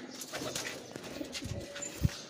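Pet pigeons coo softly in a bird-keeping setting, low murmuring calls repeating under steady background noise, with one louder coo near the end.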